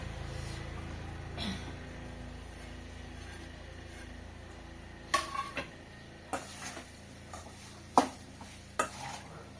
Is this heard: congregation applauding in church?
no